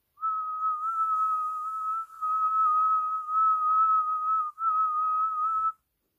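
A person whistles one steady, clear, sustained tone, held for about five and a half seconds with two brief breaths in between, close and alone with no other sound.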